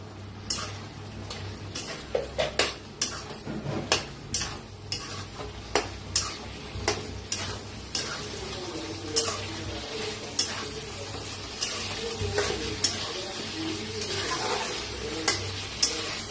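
A spoon stirs a stuffed capsicum (bharli mirchi) filling in a pan. It scrapes and knocks against the metal in an irregular rhythm of sharp taps over a low, continuous sizzle of frying, loud and close.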